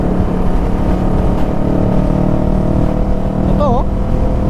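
Kawasaki Ninja 650 fitted with a new Orion muffler, a loud, steady deep exhaust drone running the whole time, close up and constant, with a brief voice cutting in near the end.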